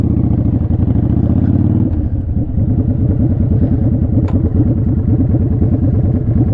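Motorcycle ridden slowly while the rider works the clutch friction zone, a loud close engine chugging with low pulsing throb and uneven rises and dips in revs throughout.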